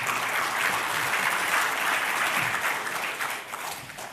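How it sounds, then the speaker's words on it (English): An audience at a convention session applauds steadily, dense clapping that stays even and fairly loud throughout before thinning slightly at the end. "Let's give them a hand of applause then."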